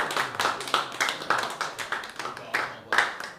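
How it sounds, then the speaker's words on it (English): Rhythmic clapping from a modest comedy club audience, fairly loose in time with distinct individual claps standing out, some crowd murmur or voices mixed faintly underneath. "Clap for me harder."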